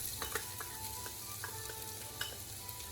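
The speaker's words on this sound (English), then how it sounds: "Let the oil warm up slowly, then add the sliced onion and garlic." Sliced onion and garlic fry in olive oil in a pot over medium heat: a steady, soft sizzle with small crackling pops, with occasional light stirring clicks and no talking.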